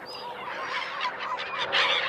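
A flock of geese or similar fowl honks continuously and fairly loudly, with overlapping calls throughout and no speech.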